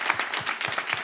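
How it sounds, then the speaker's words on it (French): Audience applause at a live French show, a dense wash of clapping with a rhythmic pulse lasting about a second, steady and fairly close. "applaudissez quand même, elle a bien commencé"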